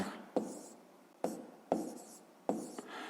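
Chalk or pen tapping and scratching numbers onto a board during a fifth-grade math lesson, four sharp strokes in a quiet room with no speech.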